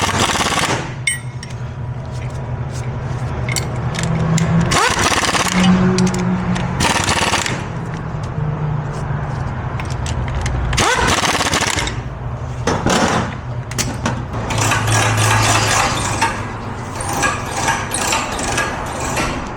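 A ratchet tightens the rear driveline U-joint bolts on a 2006 Nissan Pathfinder in a crisscross pattern: loud, close, rapid clicking in repeated bursts with brief pauses between bolts and metallic clanks.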